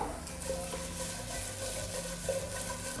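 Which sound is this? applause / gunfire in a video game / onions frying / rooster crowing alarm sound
onions frying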